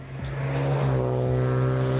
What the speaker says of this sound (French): un moteur essence 3 litres de 6 cylindres en ligne atmosphérique qui développe 343 chevaux et qui ne demande qu'à chanter